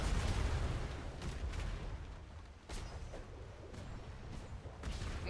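Ship cannons in a video game naval battle fire in repeated heavy booms over a constant low rumble of sea and battle, faint and distant, with several separate shots spaced across the span.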